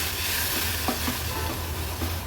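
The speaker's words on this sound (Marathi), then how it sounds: "व्यवस्थित मिक्स करून घेऊया।" Masala curry with turmeric and water being stirred in a pan for an Agri-Koli style fish thali, a steady close wet scraping and bubbling texture with a few soft spoon knocks, no voices.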